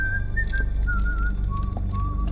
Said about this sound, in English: The whistling is not creepy.